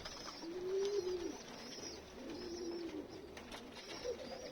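Pigeons coo during a cold, windy evening feeding, giving soft, low repeated coos in several short phrases close by, with faint wind noise behind them.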